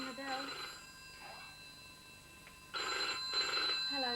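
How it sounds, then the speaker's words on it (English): Office telephone ringing in short double trills, a pair of bursts at the start, then a pause and two more near the end, with a faint voice partly under the rings. "Could you hold on one moment while I answer the other phone?"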